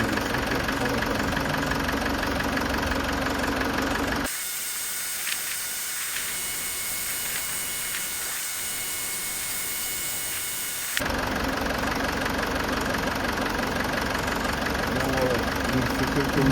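A Citroën C5 idles steadily while its hydropneumatic suspension cycles up and down, the engine hum constant and fairly close, with a quieter stretch in the middle before the fuller sound returns.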